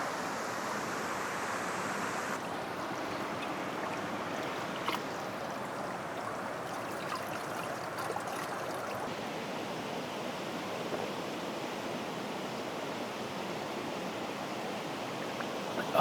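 Ice-cold spring water flowing out of the ground in rainy Racha, a steady soft gushing rush, close and continuous, with no voices.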